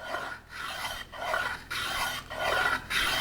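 Rasp or file strokes chamfering the edge of a wooden dovetail drawer: five or six close, rhythmic scraping passes with short pauses between them, no talking.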